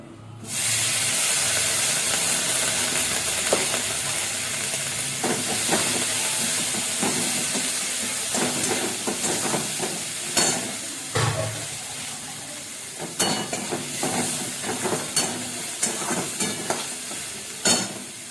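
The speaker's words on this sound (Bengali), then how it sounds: "একটা গোটা পেঁয়াজ রয়েছে, পেঁয়াজটা ছেড়ে দিচ্ছি" A whole onion dropped into hot oil bursts into loud, steady sizzling and hissing, close by, with scattered crackles and stirring clicks over the continuous fry.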